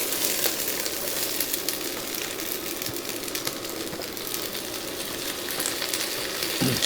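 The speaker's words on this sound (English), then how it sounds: "So our pans are hot now. Perfect. So we can add the eggplant here." Eggplant fries in a hot pan for an Iraqi stew, giving a dense, continuous, fairly loud sizzle and crackle that holds steady throughout, with no voices over it.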